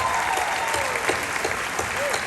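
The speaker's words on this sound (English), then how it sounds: "How about another round of applause for Return to Zero?" Audience applause for a performing group at an opening event for Give Kids The World, a brisk, even wash of clapping lasting a couple of seconds with a voice speaking over it.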